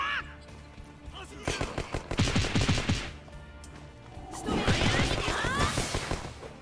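Enemy gunfire in One Piece: World Seeker, a dense spell of sharp shots and crashing impacts followed by a second burst, close and loud amid game sound effects.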